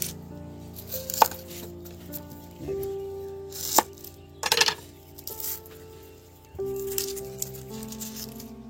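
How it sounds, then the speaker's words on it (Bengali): A knife chops onions on a board for chana chaat, with several sharp separate thuds and knocks spaced unevenly between quieter pauses, close up. "এই পেঁয়াজগুলো আমি কেটে নেব, এই দেখুন"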